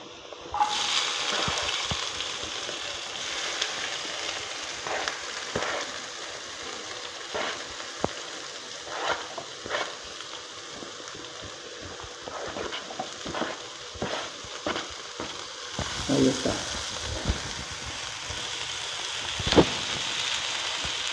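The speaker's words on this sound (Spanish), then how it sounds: "Vamos a ponerle un poquito de aceite. Y vamos a poner nuestro pimiento, nuestra cebolla." Bell pepper and onion sizzle in oil in a pan, a continuous crackling fry with occasional scrapes and stirring taps throughout, close and moderately loud.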